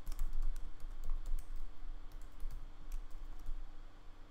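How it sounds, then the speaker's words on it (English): Rapid typing on a computer keyboard while coding, a steady run of light key clicks with a hum underneath and no voice. "I fucking hate typing this out"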